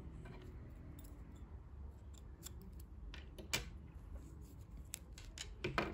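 Scissors snipping knitting yarn up close, a few quiet irregular clicks and snips over a low room hum, with no speech.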